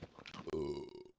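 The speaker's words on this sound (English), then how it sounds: "Burp." One close, fairly loud burp, a throaty voiced belch lasting about a second before cutting to silence.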